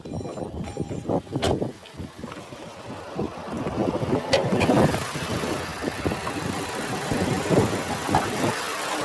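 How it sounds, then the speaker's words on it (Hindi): A Škoda Slavia Style's 1.5-litre TSI petrol engine, an inline four-cylinder direct-injection Volkswagen EA211 EVO unit, idles with the bonnet open, a quiet, steady hum with light ticking and occasional louder swells. "तो ये है 1500 CC inline 4 cylinder direct injection variable oil pump Volkswagen EA211 EVO TSI petrol engine"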